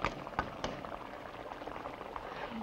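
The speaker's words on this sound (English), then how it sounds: "I'm cooling that off, not with ordinary ice, but with a special kind of ice called dry ice" Dry ice dropped into water bubbling and fizzing steadily, close and continuous, with a few sharp pops near the start.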